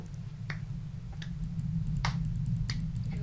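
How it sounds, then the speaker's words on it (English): Hand claps inside a mansion cellar in an Exmortis horror game, four or five sharp, sparse claps at irregular intervals over a steady low background hum. "I'm just clapping."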